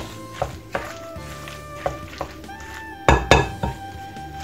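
A utensil stirs potato salad in a bowl, knocking against the sides in irregular clinks and dull taps with a few louder scrapes, close by.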